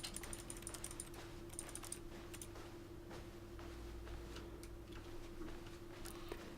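Clicking in The Stanley Parable video game produces a computer keyboard typing effect: faint, scattered bursts of keystroke clicks over a steady background hum, no voices.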